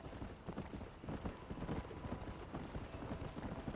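A horse's hooves clip-clop steadily in Red Dead Redemption, a regular mid-distance trot heard alone over soft ambient game background.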